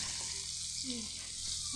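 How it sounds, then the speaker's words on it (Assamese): Fish fries in a village kitchen pan with a soft, even hiss of hot oil throughout, fairly quiet and unbroken, with no speech. "আমাৰ মাছ ভাজি হৈ গ'ল"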